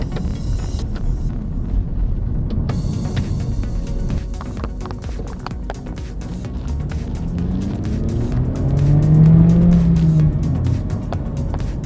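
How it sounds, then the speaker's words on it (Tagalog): A 2011 Kia Sportage crossover accelerates to overtake, its engine note rising steadily under constant road and wind noise from inside the cabin, with no one talking. "kinailangan ko mag-overtake, pero hindi ako kinapo sa power"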